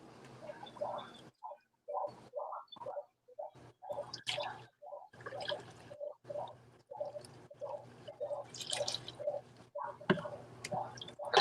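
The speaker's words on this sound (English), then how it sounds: "and then I pour some fresh water through it." Fresh water poured through a strainer of brine shrimp at an aquarium setup, giving close, irregular drips and trickles with soft gurgling bursts, quiet and continuing in short clusters throughout.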